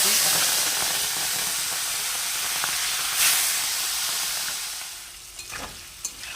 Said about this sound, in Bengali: আমি চিংড়ি মাছটা ভেজে নিচ্ছি